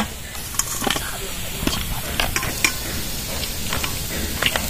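Whole-wheat flour biscuits frying in a pan, with a steady sizzling hiss throughout and scattered brief crackles and pops, close and fairly loud, with no talking.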